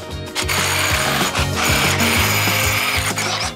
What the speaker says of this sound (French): je vais percer là où il y avait déjà un trou